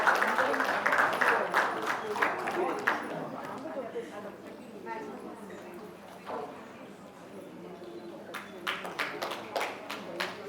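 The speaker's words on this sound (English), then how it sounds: "Big round of applause, big round of applause." Applause from an audience at a Mother's Day celebration for a mothers' milk bank, scattered claps loud at first then thinning to sparse, quieter hits before a fresh burst of clapping near the end.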